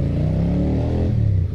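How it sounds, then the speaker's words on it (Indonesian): A Keeway V250FI Geronimo motorcycle on its stock exhaust revs with a loud, close, deep engine rumble whose pitch sinks toward the end. "Suaranya enak banget. Ini standar ya bro, knalpot standar."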